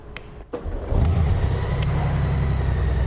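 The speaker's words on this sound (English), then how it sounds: "That flat 6 is mean." A Honda Goldwing motorcycle's flat-six engine cranks with a short starter whir, catches about a second in, and settles into a loud, steady, deep idle close by with no talking.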